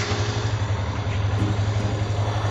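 A Yamaha FZ 2.0 motorcycle engine running close by after a blown-fuse repair, a steady rhythmic throb with a low pulsing tone throughout.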